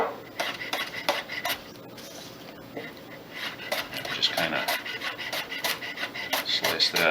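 Knife chops green onions thinly on the bias against a cutting board, a quick series of crisp taps, irregular at first, then steadier and faster, close and fairly loud, with a faint voice in the background.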